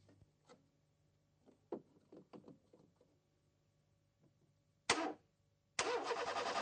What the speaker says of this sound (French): Il actionne le démarreur et relève l'intensité absorbée par le circuit de démarrage.